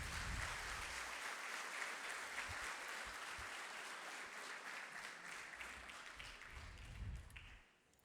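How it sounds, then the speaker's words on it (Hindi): Dense, loud crowd applause at an Easter dawn church service, a sustained wash of many hands clapping that holds steady for several seconds and then quickly dies away at the end. "ज़ोरदार तालियां।"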